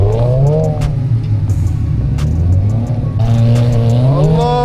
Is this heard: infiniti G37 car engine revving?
yes